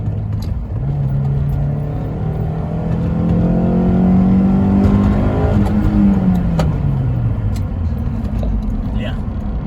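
A Honda S2000 AP1 with its F20C engine revs up while driving, the tone climbing steadily then easing back down as it cruises, loud and close inside the car.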